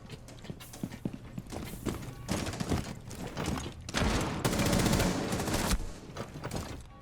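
Rapid R4C rifle gunfire in a video game shooter, fired in short bursts and a sustained spray, loud and close, with clattering mechanical noise between shots.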